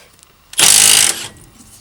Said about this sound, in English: I'm going to crack the old impact wrench on this one